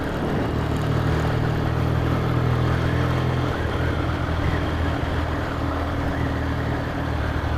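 An XJ motorcycle engine idles steadily after an electric start, a continuous loud rumble with a low droning hum that stays even throughout, out in the English countryside.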